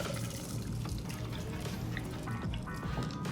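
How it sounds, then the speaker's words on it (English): Cocktail poured through a strainer into a glass filled with ice; a soft, fairly quiet trickling stream with faint drips and light clinks over a few seconds, no voices. "Take your strainer and pour out your drink."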